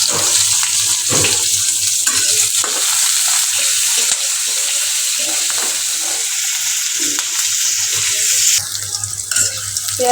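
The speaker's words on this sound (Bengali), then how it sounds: "পেঁয়াজ মরিচ ভাজা হয়ে গেছে" Chopped onion and green chili fry in a pan with a loud, close, continuous sizzle, broken by frequent scraping stirs of a utensil, and the hiss eases slightly near the end.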